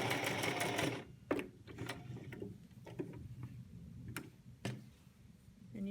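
A sewing machine stitches a cloth face mask, a fast dense whir for about a second, then short quiet bursts and light ticking taps, close and moderately soft.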